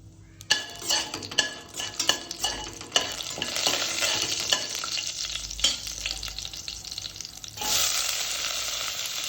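Cinnamon, cardamom and cloves fry in hot oil for khichdi, a steady sizzle punctuated by sharp spoon scrapes and clinks against the pan, then a louder burst of frying near the end.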